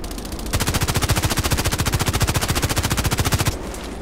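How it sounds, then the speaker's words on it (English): Sustained automatic machine gun fire in the video game Contract Wars, a rapid, even burst of loud shots lasting about three seconds, with no talk over it. "Best thing is you use... machine gun."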